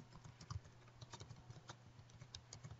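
Quiet, close typing on a computer keyboard, a string of light, irregular key clicks tapping out a short phrase, with no one talking.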